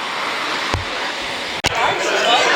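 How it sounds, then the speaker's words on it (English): Busy concourse of King's Cross station in London, a steady wash of crowd babble and indistinct voices with a couple of brief sharp knocks partway through. "After a fashion, it's just a train station."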